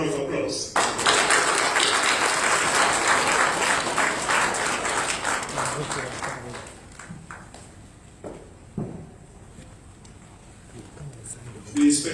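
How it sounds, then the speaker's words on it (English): A crowd at a Ghanaian police chief swearing-in ceremony breaks into loud, dense applause that gradually thins to scattered claps and a few taps, with speech heard toward the end. "A round of applause."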